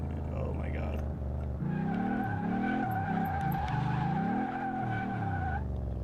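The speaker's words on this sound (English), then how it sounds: "Just listen to when I release the gas pedal." Engine of a Ford Escort in the Car Mechanic Simulator 2018 video game, revving loud and close then dropping off as the gas pedal is released, with shifting engine tones and a steady high whine, people talking over it.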